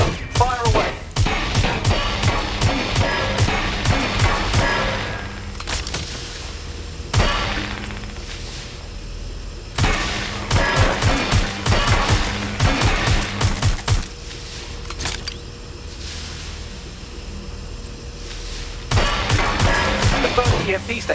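Gunfire in Watch Dogs Legion aimed at weak points revealed by an EMP, delivered as clustered bursts of rapid shots separated by short lulls, loud and close, with a voice speaking between and over them.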